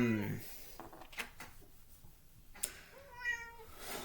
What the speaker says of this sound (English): Stinky cat interrupting my video.